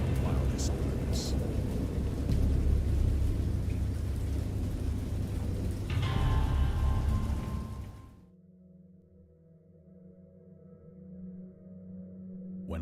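A thunderstorm in the video game Dagon roars with heavy rumbling and rain for about eight seconds, then cuts off abruptly to a quiet low hum and tonal ambience.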